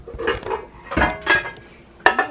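A heavy pan clanks and knocks a few separate times as it is handled in a home kitchen, the metallic hits close and sharp with short gaps between them.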